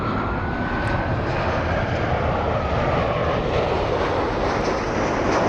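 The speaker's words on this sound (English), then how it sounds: "Let's capture the Southwest takeoff. Southwest 3572 flying to Midway, Chicago, a 737-800" A Southwest Boeing 737-800 takes off at Los Angeles International Airport with a loud, continuous jet roar that stays broad and steady throughout, with no voices over it.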